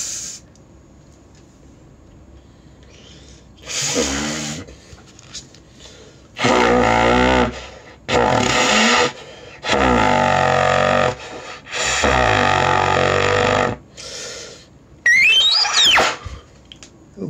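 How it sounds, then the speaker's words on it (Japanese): Trumpet pedal tones blown with the upper lip vibrating fully, several low buzzing sustained notes separated by pauses and breaths, close and loud, followed by a short rising high note. "これが上唇が一番震えてます。 ペダルトンです。"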